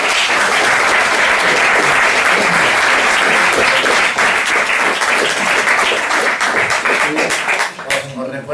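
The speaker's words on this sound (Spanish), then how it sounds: "Un aplauso para Eduardo, que ha hecho" Sustained applause from an audience after a talk on the bombing of Dresden, dense and loud throughout, thinning into a few scattered claps at the very end.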